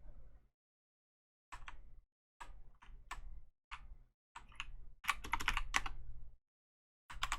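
A computer keyboard is typed on in short bursts of quick clicks separated by silent pauses, close and faint, ending in a denser flurry of keystrokes.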